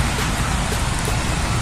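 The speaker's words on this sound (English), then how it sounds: "We are out here in the rain." Steady, loud rain falling outdoors during an equipment breakdown, a dense continuous wash of drops with no pauses and no voices.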